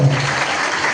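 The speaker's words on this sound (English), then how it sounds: "Please give Doshi a big round of applause" Applause from an audience for Doshi, a short burst of clapping filling the whole second, loud and close, with a faint voice at the very start.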